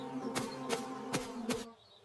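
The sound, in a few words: buzzing swarm of bees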